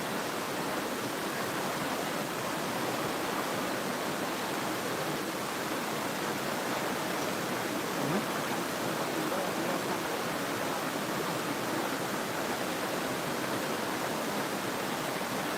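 A mountain stream flows through Ssanggok valley in Goesan, a steady, dense rush of water that holds unchanged for the whole stretch, moderately loud, with no voices.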